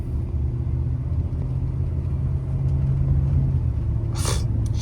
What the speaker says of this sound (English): You can just hear the engine RPM down.